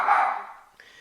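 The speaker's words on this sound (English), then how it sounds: "That is my dog" A pet dog gives a single sharp bark, close and loud, followed by a fainter short yip as it fades.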